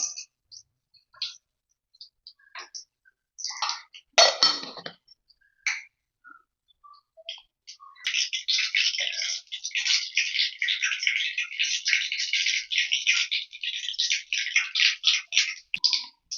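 Mustard seeds crackling in hot oil, scattered pops at first, then a dense rapid spatter of sharp little clicks that continues to the end, close and bright.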